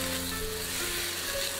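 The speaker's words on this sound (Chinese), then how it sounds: "大火煸炒" Dried cabbage and mushrooms stir-fry in oil in a wok over high heat, giving a loud, continuous close sizzle with a soft underlying hum and no talking.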